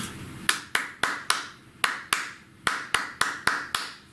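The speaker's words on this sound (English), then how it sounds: "I'm going to count and clap with the metronome" Close, sharp hand claps repeat in an even rhythm in 4/4 time along with a metronome, about three per second with a few brief gaps, clear and distinct with no talking.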